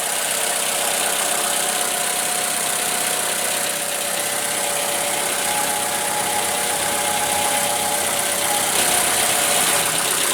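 A 2.5 L four-cylinder engine in a 2014 Toyota RAV4 XLE AWD idles steadily, with variable valve timing, producing a constant close hum with faint mechanical ticking and no talk for the whole stretch.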